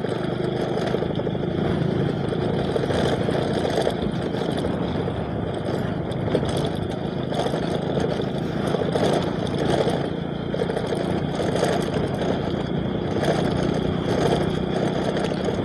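Many motorbikes run along a crowded road, a continuous blend of engine drone and idling putter from several machines nearby, steady and fairly loud throughout.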